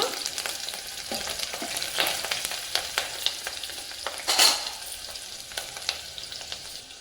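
Four green chilies hit hot oil and fry with a continuous bubbling sizzle and sharp popping crackles, close up, with one louder spitting burst midway and no voices.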